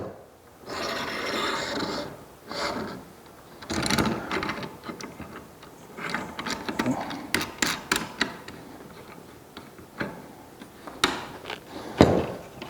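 A flip stop on a Bauer table saw miter gauge slides along the top of the fence after its knob is loosened, giving intermittent raspy scraping and sliding rubs with short clicks, close and fairly loud, no voices.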